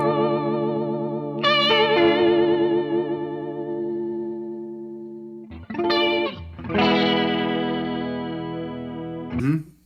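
Electric guitar through an MXR chorus pedal rings out in shimmering, sustained notes and chords, with a pause and then a fresh strummed chord swelling and fading, loud and close with no voice over it.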